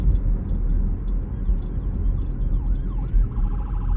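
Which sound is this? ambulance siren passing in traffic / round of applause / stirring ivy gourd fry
ambulance siren passing in traffic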